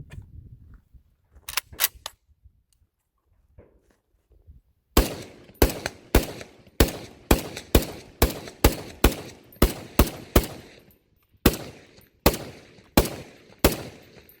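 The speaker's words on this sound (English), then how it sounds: "I fired around 15 rounds." An FN FAL rifle fed from a 30-round metric magazine fires about fifteen loud, sharp rounds in a steady semi-automatic rhythm, preceded by a few quieter handling clicks.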